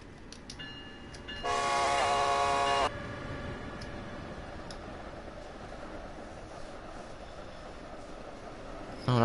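An electric passenger train on the Northeast Corridor in Train Sim World rumbles past steadily, with a loud horn blast early on and a continuous rolling roar that carries to the end.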